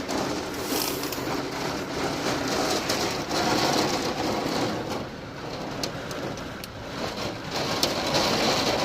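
Heavy rain with big drops falls outdoors on a farm, a dense, steady patter with scattered sharper impacts, moderately loud and continuous.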